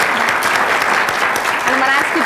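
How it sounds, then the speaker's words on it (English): An audience applauding a family at a college scholarship event, with steady close clapping throughout and a voice speaking over the applause. "I'm going to ask you to give a round of applause to this fantastic family."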